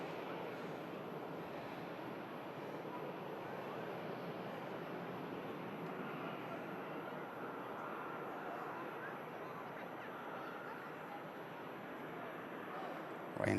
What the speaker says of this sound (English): Ryanair from Dublin touches.